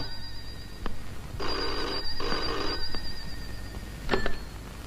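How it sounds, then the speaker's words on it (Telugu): A telephone rings in two bursts of trilling bells, fairly close, with a quieter electronic beep near the end and no talking. "పాపం ఏదో అర్జెంట్ ఫోన్ కాల్ ఉంది"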